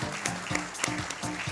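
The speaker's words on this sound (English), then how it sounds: "Can you hear our applause for you, for your intervention, for your charge?" Applause from a conference audience at an investors' event: a steady, dense clatter of many hands clapping together, fairly close and sustained throughout with no talking over it.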